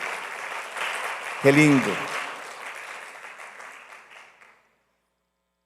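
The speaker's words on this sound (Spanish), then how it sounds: "eso merece un aplauso al Señor" A church congregation applauds during a sermon, with clapping under a man's brief spoken exclamation before the applause gradually fades to silence.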